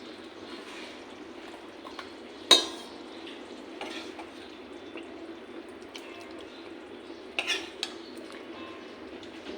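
Vegetable curry of potato, papaya and soybean chunks served from a pot into a bowl with a spoon, a sharp metal clink near the start and a few softer scrapes and taps later, quiet and close with no talk.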